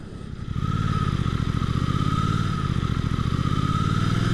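A 2023 Suzuki GSX-8S motorcycle engine rumbles steadily up close with a dense, even pulsing beat, starting softer and then holding loud and constant throughout, with no talking.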